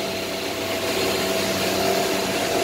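CNC router cutting wooden cocktail table boards in a wood shop, a steady whirring machine drone with a faint tonal whine and hiss running continuously at moderate level, no voices.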